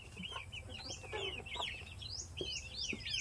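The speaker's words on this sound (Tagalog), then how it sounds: "Yan ang aming mga manok." Chickens clucking and chirping on a Philippine farm, several birds calling in quick, overlapping bursts over a low background rumble, with no talk.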